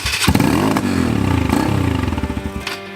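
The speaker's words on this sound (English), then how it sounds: "Like a dirt bike with a new piston" A $200 dirt bike with a new piston runs close by, its engine revving in loud rising and falling bursts with a rapid rattling firing pulse and mechanical clatter throughout.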